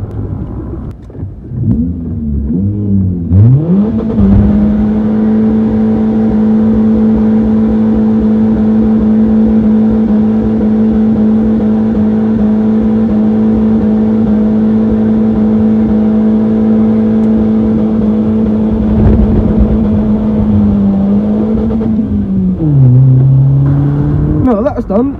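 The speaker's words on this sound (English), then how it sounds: "We've got to do a burnout in the big block, haven't we?" A big block engine roars through a sustained burnout, revving up hard at the start, then holding a loud steady drone for about twenty seconds before dropping back to a rumbling idle, close and alone.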